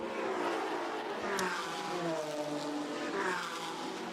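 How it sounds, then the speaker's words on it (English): GT4 race cars braking and accelerating through the Ascari chicane at Monza, engine notes rising and falling in sweeping pitch bends, loud and continuous with overlapping cars passing. "the cars then come now down through the Ascari chicane"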